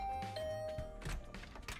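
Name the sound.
doorbell ringing in video game The Hundred Line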